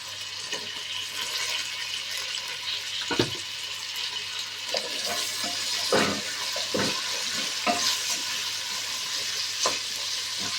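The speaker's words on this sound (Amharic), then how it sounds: "እሱንም ከሽንኩርት ጋር በደንብ አድርጌ ጠብሰዋለሁ ማለት ነው።" Carrots frying with onions in a pan give a steady close sizzle, with sharper crackles and stirring scrapes breaking through every second or two.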